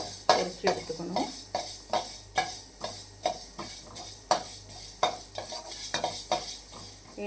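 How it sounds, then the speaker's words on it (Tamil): Food frying in a pan over a low flame: a steady soft sizzle under regular stirring scrapes and clinks that come roughly twice a second, close and moderately quiet. "மெலிசா அடுப்பை வந்து ஸ்லோவாக வச்சுட்டு பொரிச்சு எடுத்துக்கணும்."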